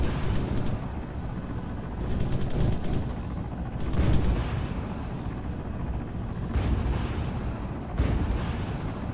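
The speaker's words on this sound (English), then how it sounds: "Fire rockets!" Video game combat rumbles on constantly as rockets are fired, with dense booming explosions and rattling bursts of gunfire, loud and unbroken with a few sharper cracks throughout.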